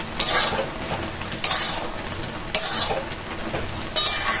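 A spoon stirs mango pickle with spice mix in a pan, scraping in four evenly spaced sweeps over a continuous frying sizzle, close and fairly loud.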